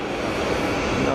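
An Airbus A220-300 landing at Geneva Airport makes a loud, steady broadband roar throughout the short stretch, with a faint voice mixed in.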